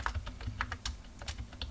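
A password is keyed into a computer keyboard during a server installation on Ubuntu, a quick run of light, close clicks in an uneven rhythm, soft and unaccompanied by talk.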